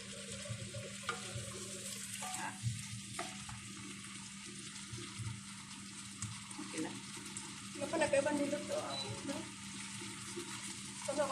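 Vegetables being stirred in a pan make a faint, quiet sizzle with scattered scraping and stirring noises, and a small burst of activity near the end, all at low volume.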